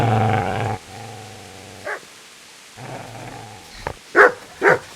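Dog in the video game Kingdom Come: Deliverance, heard in several short bursts of barking and growling, loud and close, with a low steady hum under the gaps.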